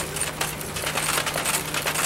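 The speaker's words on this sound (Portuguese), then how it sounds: "A máquina linotipo faz essa composição mecanicamente." A linotype machine at work, its metal matrices clinking and clattering in quick, irregular metallic taps over a steady mechanical hum, a low tone running underneath.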